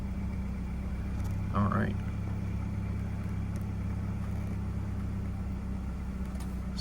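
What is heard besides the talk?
BMW F25 X3 engine starting up and idling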